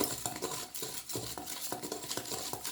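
Broccoli is tossed with salt in a bowl for roasting, giving repeated scraping, clinking stirs of a utensil at a steady rhythm, close and moderately quiet.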